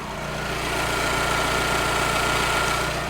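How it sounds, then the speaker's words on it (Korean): A diesel Audi Q5 SUV idles steadily in an underground parking garage, a continuous mid-level engine hum with a low rumble and faint mechanical vibration, no voices. "엔진 소리 한번 들려드리겠습니다"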